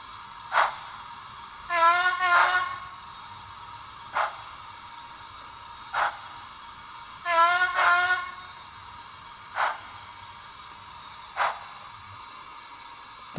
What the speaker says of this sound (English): Let's go for two whistles